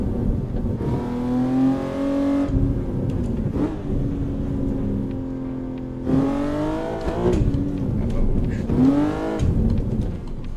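BMW car engine in a driving video game, revving up and down in repeated waves of rising pitch with gear shifts, loud and close throughout.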